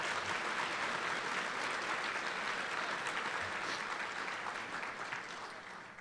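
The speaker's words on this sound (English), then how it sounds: "Let's give them a round of applause." Applause from a breakfast audience at a two-year college math association awards event, honoring committee chairs; sustained, even clapping from many hands, moderately distant, slowly fading toward the end.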